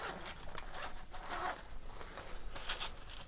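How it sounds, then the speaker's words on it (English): The zip on a Lulzbot 3D printer toolkit pouch is pulled open in a few quick, close rasping strokes, with no talk. "Oh, there's another zip."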